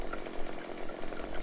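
A chainsaw runs steadily at close range in outdoor work trimming branches, its engine buzzing with a rough, continuous drone and slight surges throughout, no voices over it.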